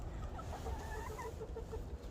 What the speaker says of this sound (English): I'm out here hanging out with the chicks.